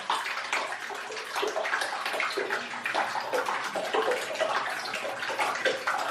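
Running bath water pours steadily into a tub as a Lush bath bomb goes in, a continuous close, loud rushing splash with gurgling texture throughout, no voices.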